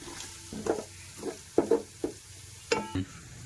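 Chicken pieces tipped into a hot pan with fried aromatics and stirred through, giving a soft sizzle broken by several short scraping stir strokes and clinks of a utensil, close by with no talking, for a chicken fry cooked in bulk.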